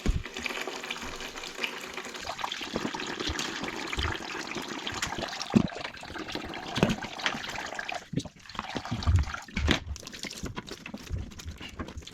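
Water gushes and splashes from an opened plumbing pipe end into a bucket, a continuous pouring stream with irregular slops and gurgles, close by and moderately loud, easing briefly before surging again.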